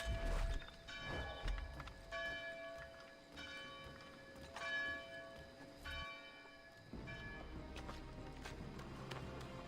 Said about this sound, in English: Like how the bell just goes off.